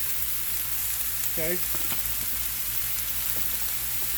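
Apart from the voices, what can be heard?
vegetable tortilla omelette sautéing in a pan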